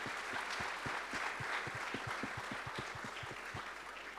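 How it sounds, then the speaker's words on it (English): A church congregation at a Sunday service claps in a steady rhythm for a badminton runner-up, the fairly quiet, evenly spaced claps of a group sounding in a room and continuing throughout. "Let's clap our hands for him."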